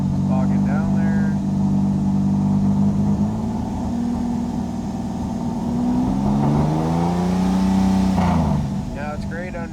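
A Pontiac Fiero engine misfires and bogs down under light throttle, its mid-pitched running note wavering and sagging, then rising and falling again. Someone talks over the engine for much of the time.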